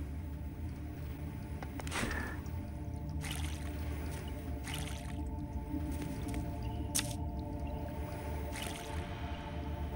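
Watering plants in the survival game Mr Prepper: a series of about six short splashing, pouring bursts at a steady pace, heard over a constant low ambient hum.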